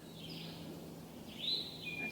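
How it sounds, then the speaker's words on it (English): Wood thrushes singing in wooded Pennsylvania state game lands, a few faint, distant high fluting phrases spaced over a soft background hush, with no talk. "Birds are singing away. A lot of woods robins in here."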